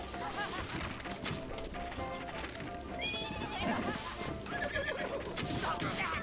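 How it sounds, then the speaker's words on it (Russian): A horse in a Legend of Zelda video game neighs a few times over a dense, steady mix of game sounds and hoofbeats, with someone talking intermittently. "О, лошадь красава!"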